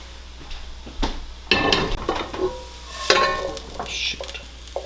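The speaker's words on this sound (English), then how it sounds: "let these saute. It says for about 15 minutes, so those carrots and parsnips will be able to soften up" Carrots and parsnips sauté in a skillet with a soft sizzle, broken by several louder bursts of stirring and clattering from the pan.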